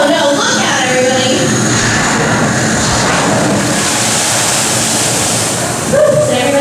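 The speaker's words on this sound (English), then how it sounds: "Now at this time you see some explosions, some water cannons, and some bullet hits." Special-effects explosions, water cannons and bullet hits on the Disney's Hollywood Studios Backlot Tour: a loud, continuous roaring rush of spraying water and blasts, with brief voices shouting near the end.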